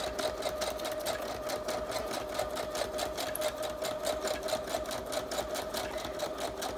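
A sewing machine stitching around the edge of a vellum piece on a junk journal page: a steady, fast mechanical needle rhythm with a constant motor hum, close and continuous throughout.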